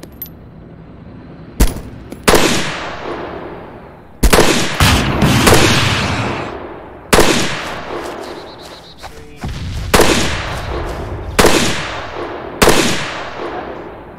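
Repeated bursts of gunfire in the military shooter ArmA II, a dozen or so sharp loud cracks and short volleys at uneven intervals, each trailing into a rumbling echo, close and dominant with no talk.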